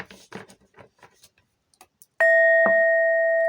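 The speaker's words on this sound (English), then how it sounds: "that bell is really like hitting right now" A struck bell rings out with a bright, sustained metallic tone that lingers and decays slowly, sounding after a stretch of quiet, faint knocking and shuffling noises.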